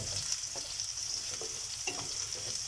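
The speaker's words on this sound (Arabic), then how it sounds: "حنا تنشحروا البصله والثومه هي الاولى" Onion and garlic sautéing in a frying pan as the base for seafood paella, a constant close hiss of sizzling oil with a few soft stirring knocks, no voices.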